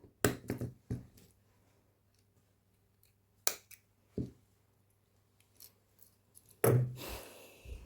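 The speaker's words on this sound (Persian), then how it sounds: "اینجا دو سر نخ رو قیچی کنین" Scissors snip thread ends on a handmade beaded bag, giving a handful of crisp, close cuts spaced irregularly across a quiet background, with a final louder snip and rustle.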